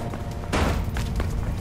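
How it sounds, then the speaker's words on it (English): Gunfire in the video game Mirror's Edge: a sudden loud burst of shots, then a few fainter cracks over a low rumbling background, with no talking. "I can hear gunshots"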